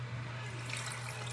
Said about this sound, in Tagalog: Pwede nang lagyan natin ng dalawang basong tubig.